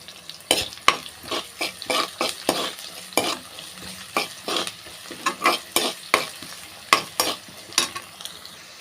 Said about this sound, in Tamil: அது கூடவே பச்சை மிளகா சேர்த்துக்கிறேன் வெங்காயம் வதங்குறதுக்கு தேவையான அளவு உப்பு சேர்த்துக்கிறேன்